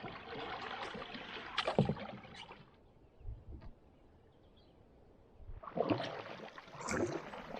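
A canoe paddles across quiet lake water, with close splashing and dripping strokes in two bursts separated by a near-silent glide.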